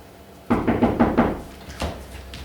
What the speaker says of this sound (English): Knocking at this hour?